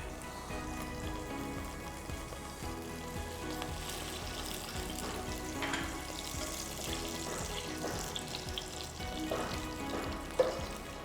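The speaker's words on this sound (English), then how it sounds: "Now the oil is hot. I'll add some ghee to it." Ghee hitting hot oil in a pan while cooking a Bengali prawn malai curry, giving a steady, dense crackling sizzle throughout, with a few sharper pops and spatters near the end and no voices.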